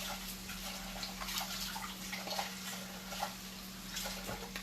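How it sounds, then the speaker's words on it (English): A container is rinsed under running tap water in a home kitchen, a soft steady trickle and splash heard faintly over a low hum, with no talking. "Let me just rinse the side real quick."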